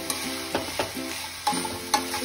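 Chopped vegetables sizzle in a hot pan for pizza topping, with a few sharp scraping stirs of a spoon spaced through a quiet, steady frying hiss.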